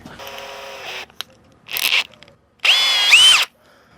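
A mystery plumbing tool grinds in short bursts separated by pauses, with the last burst the loudest and longest, a harsh, close whine.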